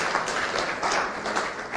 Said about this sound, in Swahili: Simpige makofi basi tusikie